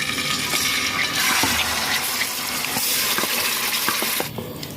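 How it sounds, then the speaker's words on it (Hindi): Marinated chicken hits hot oil spiced with black pepper and a cinnamon stick in a karahi, raising a loud, dense, steady hiss that eases slightly near the end, with no voices. "जो चिकन मैंने मैरिनेट किया हुआ है वो इसमें शामिल कर दूँ।"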